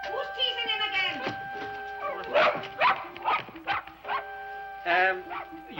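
A dog barks and yips repeatedly in short bursts, close and fairly loud, mixed with whimpering tones, in a domestic scene from a 1962 film.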